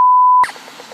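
A single steady electronic beep sounds loud and clear for under half a second, then cuts off into faint hiss.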